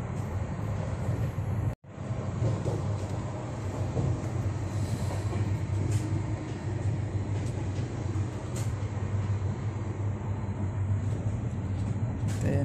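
Steady rumbling of a moving train on the tracks, continuous and close, with a brief dropout near the start and faint voices underneath.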